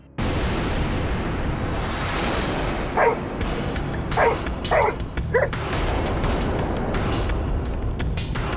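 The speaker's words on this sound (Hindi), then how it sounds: "क्यों भौंक रहा है?" A dog barks a few times in short bursts over a steady background hum, fairly close, with brief yips between.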